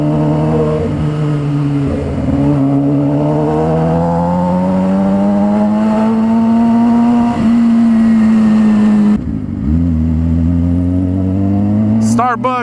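A 636 sport motorcycle pulling a wheelie in second gear, the engine revving loud and close with rising pitch, easing off, then surging again before a sharp drop, with faint wind noise.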